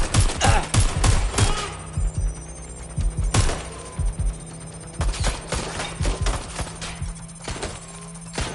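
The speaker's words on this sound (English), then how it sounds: "They're shooting at us." Dense gunfire in the Watch Dogs Legion video game: loud, close bursts of rapid shots in clusters, pausing briefly before further volleys, over a low steady hum.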